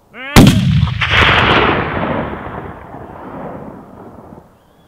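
A single loud rifle shot fired at a bear on a hunt cracks sharply, then rolls away in a long echoing boom that fades over about four seconds outdoors.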